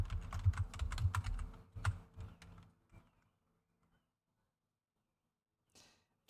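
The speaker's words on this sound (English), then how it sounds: "Please excuse me while I thump away on the keyboard." Keys on a computer keyboard thump away in quick irregular bursts for about three seconds, close and fairly loud, then stop, leaving near silence with one faint rustle at the end.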